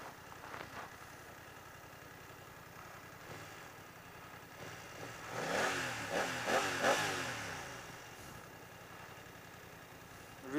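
A 2020 BMW F900XR motorcycle rides through heavy city traffic. The engine hums low and steady, then swells into a louder revving stretch midway before settling back, with street noise around it.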